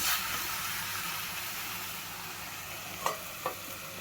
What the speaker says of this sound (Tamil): இதில் இப்போ சிக்கனை ஆட் பண்ணிக்கலாம். ஃபைவ் மினிட்ஸ் சிக்கன் நல்லா வதங்கட்டும்.